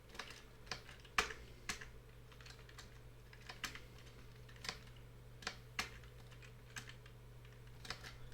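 File path being typed on a computer keyboard, a quiet, close run of irregular key clicks with a few sharper, louder strikes over a low steady hum.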